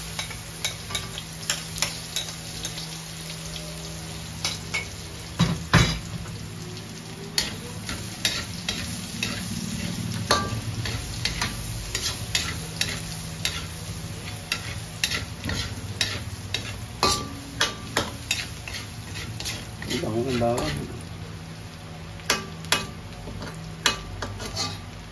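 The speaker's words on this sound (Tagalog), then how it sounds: "Mag-igisa na tayo." Garlic sautés in a hot pan for crispy pork pochero, a steady close sizzle broken by frequent sharp clicks and scrapes of a utensil stirring against the pan.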